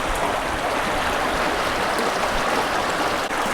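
A stream near a hiking trail bridge on the Pacific Crest Trail around Lassen National Park rushes in an even, continuous wash of water, close and steady, with no voices.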